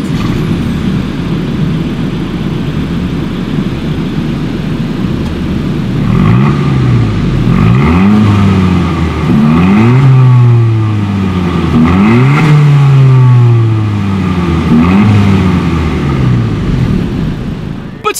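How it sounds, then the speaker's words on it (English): A 2019 Honda Civic Si with a rear center-mounted exhaust idles, then revs repeatedly in loud, rising and falling bursts, heard close up. "As always, here is that exhaust clip."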